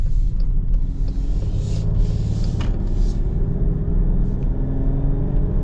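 A 2025 Chrysler Pacifica AWD minivan accelerates on the road, giving a steady, loud, low engine and road rumble from inside the cabin that holds even throughout, with no talking.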